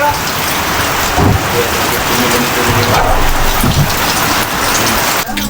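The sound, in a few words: light rain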